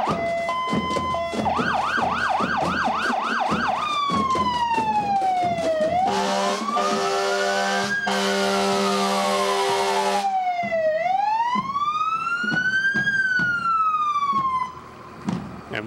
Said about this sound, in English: we'll have to contend with the fire truck siren also while we're at it